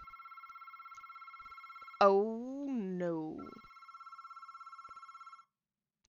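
A telephone rings in a scary video game with a steady, repeating electronic trill. A person exclaims briefly over it, and the ringing carries on for a few seconds before cutting off.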